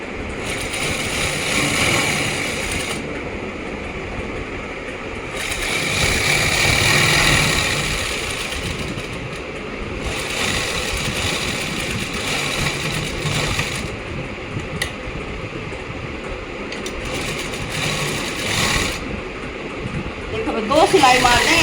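A sewing machine stitches along a marked line on a simple kameez, making a steady mechanical drone that swells and eases in runs across the whole stretch.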